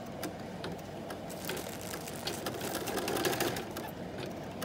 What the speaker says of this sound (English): the next stitch that the machine will do is a placement stitch so that you know where to put the tab for the hardware